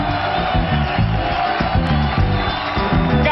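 Studio audience at a television variety show cheering and clapping for a salsa singer's entrance, a loud continuous crowd roar layered over rhythmic band music, with whoops rising through the din.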